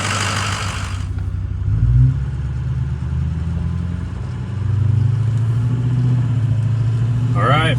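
A 2007 Ford 6.0 Powerstroke diesel truck engine, fitted with 625 studs, runs at a steady idle, a deep, even rumble close by, with a voice speaking over the start and brief talk near the end.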